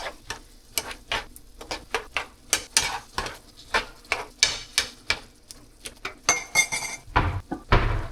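Food stirred in a pan with salt and turmeric, a steady series of sharp spoon scrapes and clinks on the pan at an even rhythm, close and fairly loud, with no talking.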